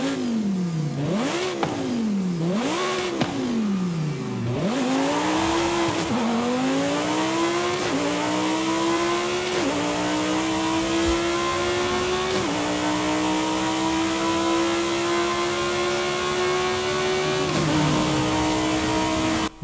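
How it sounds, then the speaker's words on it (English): Stock Lamborghini Huracan engine in Forza Horizon 5, revving hard through several quick gear changes, then climbing steadily in long pulls with brief shift dips, loud and close with no talking. "They've certainly made the Huracan sound a lot better in Horizon 5."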